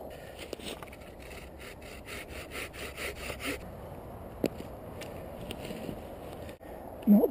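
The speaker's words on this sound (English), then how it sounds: "I've sawn the wedge on this last one" Handsaw cutting a wedge into a hazel stem during coppicing outdoors, rhythmic rasping back-and-forth strokes close by, fairly quiet, followed by a few scattered knocks and faint distant voices.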